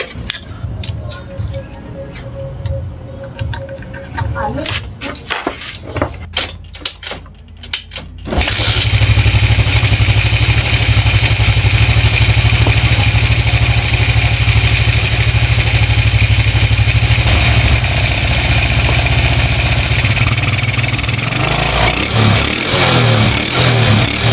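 Clattering and tinkering sounds give way to a Motorstar motorcycle engine, just repaired for low compression, starting and then idling loudly and steadily for a long stretch.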